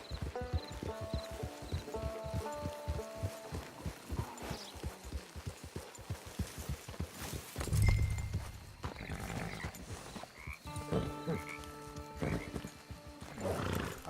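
Steady clip-clop of hooves in a quick rhythm, with a horse whinnying partway through, set against a musical background, in the video game Red Dead Redemption 2 Online.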